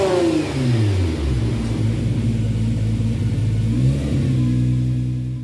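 A Nissan GT-R Nismo GT3 race car engine in the Gran Turismo video game, loud and close, sweeping down from a high rev into a steady rumbling drone before climbing again near the end, with no talking.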